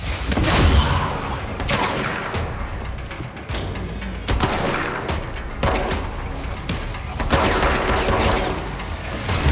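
Shotgun blasts in the video game Control, with loud booming shots and heavy bursts of gunfire recurring through a dense, continuous combat din, with no talking.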